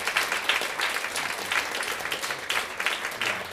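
A live audience applauds a singer at a concert, with dense, continuous clapping from a crowd that swells and ebbs over a few seconds.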